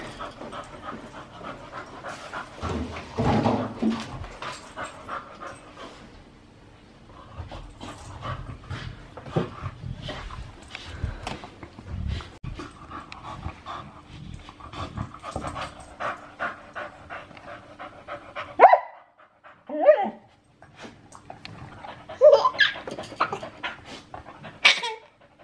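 A puppy pants quickly and steadily up close, with short breathy bursts, a few soft whimpers, and sharper yips toward the end.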